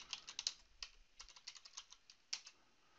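Fast typing on a computer keyboard while configuring a Ruckus ICX network router: irregular bursts of quick, crisp keystrokes with brief pauses, close and fairly quiet, with no talking.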